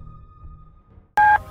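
A telephone is dialed, giving a single short, clear tone that sounds loud and close after a moment of near silence, with a faint hum underneath.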